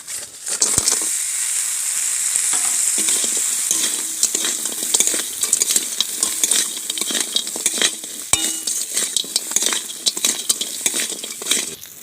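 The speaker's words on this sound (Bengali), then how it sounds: "এবার দিয়ে দিচ্ছি ভেজে রাখা কাঁকড়া।" Pre-fried mud crabs hit a hot pan of oil and Kashmiri chili and sizzle loudly. A spoon scrapes and clatters against the metal as the crabs are stirred, with sharp knocks now and then.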